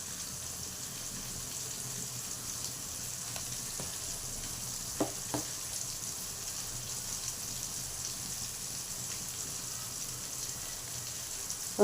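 Chicken curry masala with chilli and coriander powder fries in a pan, giving a steady, soft sizzle with a few faint clicks of a spoon stirring.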